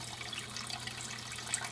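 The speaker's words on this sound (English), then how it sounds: "you can kind of see the water is just being sprayed back there and it's cleaning itself" Water from a Luxe Bidet Neo 180 sprays steadily during its self-cleaning cycle, a continuous soft hiss of spray running evenly with no other sounds.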